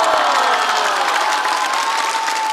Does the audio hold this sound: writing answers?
no